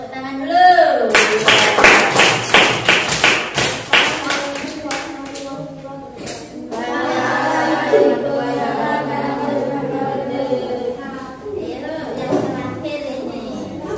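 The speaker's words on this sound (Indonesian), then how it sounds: "Coba kasih tepuk tangan dulu." Female students in a classroom clap their hands in a quick, sharp burst of claps that quickly fades, and a teacher's voice and children's chatter follow.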